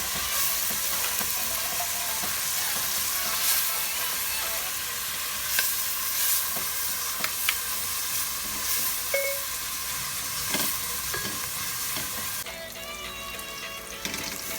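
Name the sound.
sopas ingredients frying and being stirred in a pot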